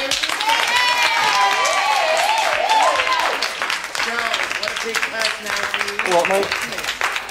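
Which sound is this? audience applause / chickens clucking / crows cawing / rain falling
audience applause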